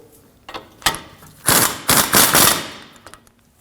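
A power tool, probably an impact wrench, snugs the outer rear strut bolt to the knuckle on a 2016-2022 Honda Pilot. Loud, close rattling bursts are heard, one short and then a longer double burst.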